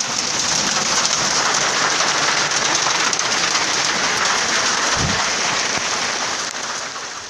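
Hail falling during an intense storm in the Marquense highlands of Guatemala, a loud, dense, continuous rattle and patter on surfaces with a brief low thump partway through and no voices.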